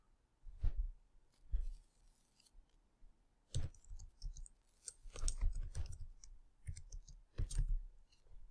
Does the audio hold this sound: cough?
no